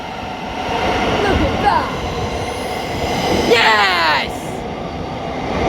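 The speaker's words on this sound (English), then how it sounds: "See you later, train." Trains at London St Pancras International low level platforms rumble loudly nearby, wheels squealing in rising and falling sweeps as a train moves through; people speak briefly over the noise.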